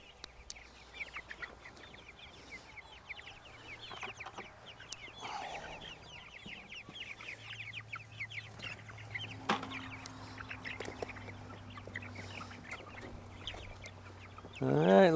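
Meat chickens in tractor pens cluck softly and continuously at a distance outdoors, a low steady chatter of the flock with faint background noise and a brief louder sound at the end.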